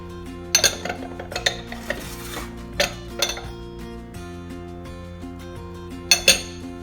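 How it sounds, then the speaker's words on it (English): Corned beef moin moin batter with salt and vegetable oil is stirred in a bowl, a utensil clinking and scraping against the sides in irregular bursts of close, sharp taps over a soft wet churn. "So I'm mixing everything together thoroughly."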